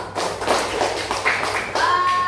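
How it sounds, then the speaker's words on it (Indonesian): A classroom of students claps along with their Catholic religion teacher, giving a short burst of loud, close, uneven claps and taps, with a few voices calling out over it. "Kita tepuk tangan untuk kita semua."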